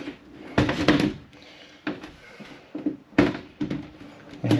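Bifold shower doors in a caravan being opened and shut, giving a series of close, hollow thuds and clatters with rattling, spaced out in bursts.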